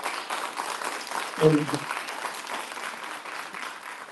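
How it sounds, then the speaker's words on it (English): An audience at a youth symposium session gives a round of applause, a steady wash of clapping that fills the room, with a brief spoken word over it. "Give them another round of applause."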